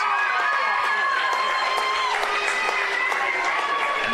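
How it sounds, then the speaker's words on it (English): A football crowd roars and cheers after a goal in a grand final, a dense, sustained wash of voices. A commentator's voice runs over the top the whole way through. "And the crowd go berserk."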